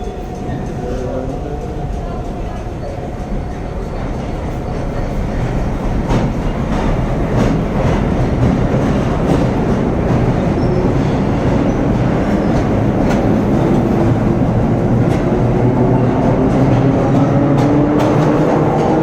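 A vintage New York subway train rides along the rails, loud and close, with a steady rumble, rhythmic clatter and occasional squeals from the wheels while people talk in the background.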